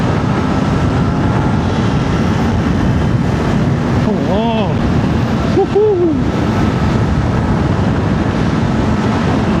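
Kawasaki Ninja 500 SE two-cylinder motorcycle being ridden on the road, a loud, steady roar of engine and wind rushing throughout, with a few brief tonal hoots and a short exclamation from the rider.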